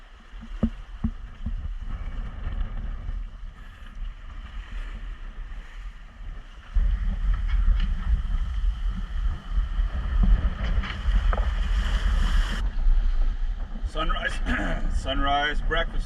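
A solo sailboat runs heavily reefed through wind and waves on open sea, with constant wind rush buffeting the microphone, a deep hull and water rumble that swells midway, and a brief voice near the end.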